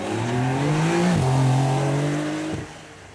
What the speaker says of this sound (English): you can hear that flat 6 singing away